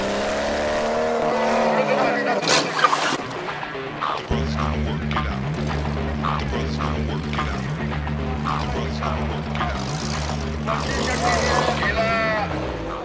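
A Jeep Cherokee with a 4-litre engine races off-road through a sharp bend, its engine roaring loud and close with a steady low drone, brief squealing skid noises, and a commentator speaking over it throughout.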